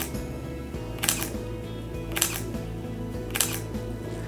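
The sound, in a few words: Leica M10 camera shutter clicking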